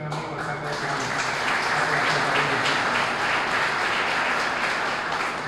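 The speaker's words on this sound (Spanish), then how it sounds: "un gran aplauso a ese gran amigo, al alcalde de Coamo" Sustained applause from an audience at a Puerto Rico legislative recognition ceremony, greeting the mayor of Coamo; dense, steady clapping that stays loud throughout.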